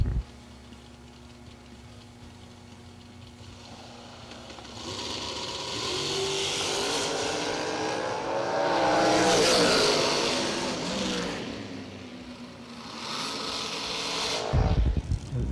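Drag race cars at a season kick-off event roar down the strip, engines building from a low idle to a loud, rising howl with a sharp burst near the end, under an announcer's commentary.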